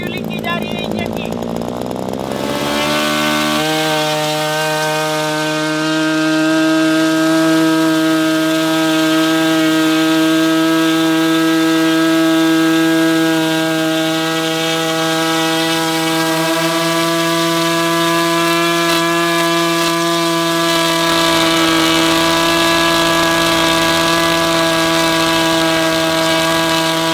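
A tiny 1.5 cc model car engine runs at a high, steady buzzing whine that is loud and close. It starts after a short burst of rougher noise and holds an even pitch for the rest of the clip.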